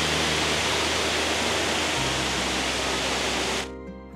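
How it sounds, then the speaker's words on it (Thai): The upper tier of Dai Chong Thong waterfall in Sangkhla Buri, Thailand, roars as a loud, constant broadband rush of falling water that fades abruptly at the end. "เดินมาถึงชั้นน้ำตกชั้นบนสุดของน้ำตกนะครับ"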